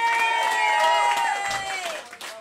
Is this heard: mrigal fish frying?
no